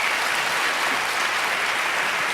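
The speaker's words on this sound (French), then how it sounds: "On les applaudit bien fort." Studio audience at a televised reality-show gala applauding the show's featured collaborators: a loud, dense wash of clapping that holds steady from start to finish with no talk over it.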